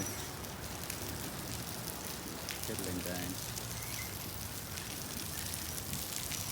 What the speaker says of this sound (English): As you can already hear, the rain has now started.